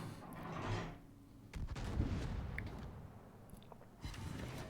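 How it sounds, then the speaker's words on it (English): The turrets of the battleship Patrie fire in World of Warships as several heavy, muffled booms spaced a second or two apart, each followed by a low rumble, heard faintly in the distance. "Alternating fire from the front turrets and back turrets as well"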